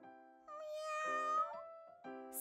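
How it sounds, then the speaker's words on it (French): A cat meows from under a big cardboard box, two clear, tonal, drawn-out calls close by, the first longer with a rising and falling pitch, the second shorter after a brief pause. "miaou sous un grand carton."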